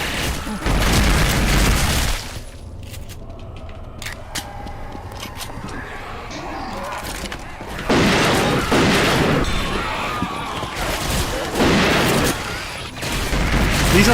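GoldenEye game gunfire sound effects go off in a modded Left 4 Dead 2 match, with loud bursts of rapid shots at the start, then sparse single cracks, and more heavy volleys later, with background game noise between them.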